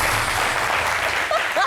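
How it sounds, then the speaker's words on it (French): An audience breaks into a short, dense burst of clapping, with a voice coming in briefly near the end. "on applaudit"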